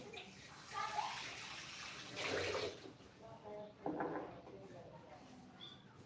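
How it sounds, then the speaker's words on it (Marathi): Water splashes and pours into a pot of cowpeas in two short bursts, with a person talking around them at close range. "चवळी पाणी घालायचं चवळीमध्ये"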